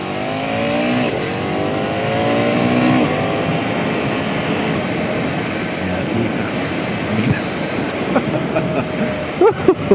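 2024 KTM Duke 990 motorcycle ridden on an open road, its engine droning and rising in pitch through the gears under heavy wind rush, with some buffeting toward the end.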